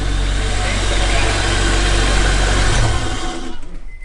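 A Honda S2000 engine idles inside a closed garage, a loud, steady low rumble with a dense mechanical drone that cuts off abruptly near the end.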